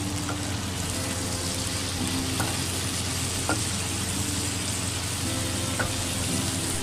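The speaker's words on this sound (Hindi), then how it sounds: "पाँच मिनट गुजर चुके हैं और अब हम इसमें टमाटर ऐड करेंगे। अच्छे से इसे भी मिक्स कर लेंगे।" Okra and tomatoes frying on a tawa, a steady close sizzle with occasional light taps and scrapes of a spoon as the mixture is stirred.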